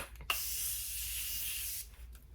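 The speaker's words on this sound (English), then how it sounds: "One more spray." A makeup setting spray mists in one continuous hissing burst of about one and a half seconds, close and fairly quiet, with no talking.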